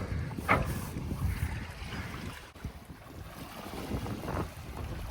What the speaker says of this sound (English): Light winds today, but we're moving pretty well. Almost wind speed with just the Genoa.